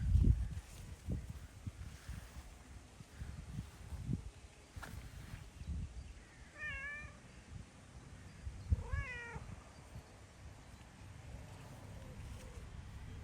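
Faint meows from a cat come twice in a garden among blooming roses, thin and wavering against a soft outdoor background of rustling and low handling noise.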